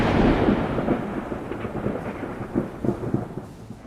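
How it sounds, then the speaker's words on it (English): Thunder rumbling through a lightning storm at night over Denver, North Carolina: a continuous low roll with rising and falling swells, carrying on steadily with no voices. "Lightning streaked across the night sky in Denver, North Carolina, a powerful reminder that nature can be unpredictable"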